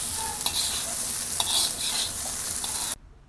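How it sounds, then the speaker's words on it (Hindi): Veg fried rice tossed fast in a hot wok for a street-style Indo-Chinese dish gives a steady loud sizzle, with scraping stir strokes at intervals. It cuts off abruptly near the end, and no voices are heard. "हम इसे ऐसे चलाते हुए फ्राई करेंगे जल्दी जल्दी"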